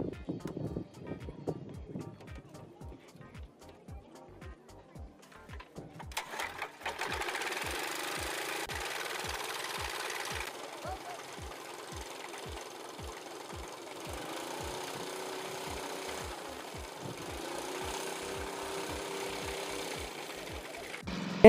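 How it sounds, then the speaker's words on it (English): Small wooden homemade airplane powered by a boat engine, running with a steady rapid chugging pulse that grows louder and more continuous after a few seconds, then holds a sustained drone with slight shifts in pitch. "He used a boat engine to power his airplane."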